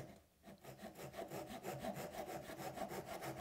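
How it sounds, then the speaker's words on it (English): Japanese pull saw cutting down the end grain of a small wooden picture-frame piece, a close, quiet, rhythmic rasping of quick repeated strokes with no talking. "I'm using just a handsaw, Japanese pull saw, letting the blade ride right down the end grain"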